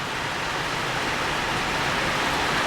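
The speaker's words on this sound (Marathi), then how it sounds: "पाऊस भरपूर चालू आहे" Steady, dense rush of heavy rain falling over maize fields, a constant broadband hiss with no breaks or distinct drops, fairly loud throughout.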